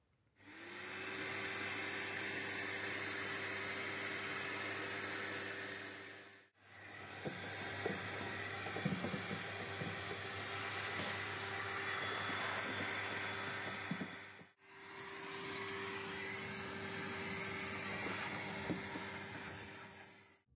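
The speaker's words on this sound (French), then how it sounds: "je vais mettre un petit coup d'aspirateur et afficher 1250 watts dessus" A vacuum cleaner runs inside a van from a portable power station set to 1250 watts, a steady close whine with a tonal hum, stopping briefly twice and restarting.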